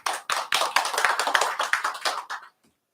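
Applause from a lecture audience, a burst of many hands clapping close and steady for about two and a half seconds before stopping abruptly into silence.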